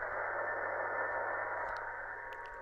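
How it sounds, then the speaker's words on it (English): FT8 digital mode signal coming through an ATS-25 radio receiver at high volume, a steady hiss of static with faint tonal data carrying on continuously throughout. "And you can actually hear the FT8 coming through."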